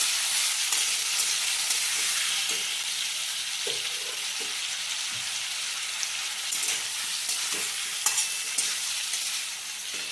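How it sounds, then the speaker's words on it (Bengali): Potatoes and grated tomato stirred in a hot frying pan, with a continuous sizzle under repeated soft scraping strokes of a spoon against the pan, close and steady with no talk. "ভালোভাবে মিশিয়ে নেওয়া হচ্ছে আলু, টমেটো।"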